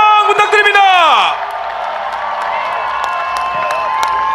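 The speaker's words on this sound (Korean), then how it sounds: "큰 박수 함성 부탁드립니다." Election rally crowd in Yeouido, Seoul: a loud descending blaring tone opens, then a distant, sustained wash of crowd cheering and clapping carries on underneath.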